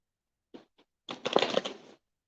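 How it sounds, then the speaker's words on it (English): A deck of tarot cards being shuffled: two tiny soft taps, then a close, quiet riffling burst lasting under a second, in an otherwise silent room. "One more shuffle."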